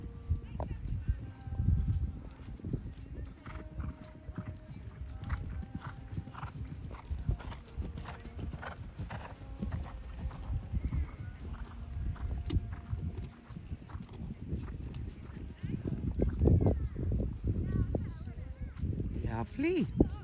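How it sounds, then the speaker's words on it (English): Horse hooves clop in an irregular rhythm on hard ground while people talk nearby, with occasional louder hoof strikes and a snort near the end. "Justine really likes this horse and its canter, particularly"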